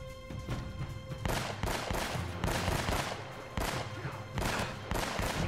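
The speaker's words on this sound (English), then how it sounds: "Just shooting in their direction is good enough for this." Rapid bursts of gunfire while shooting at enemies in Uncharted: Drake's Fortune, repeated volleys of loud close shots in an uneven rhythm, with no talk over them.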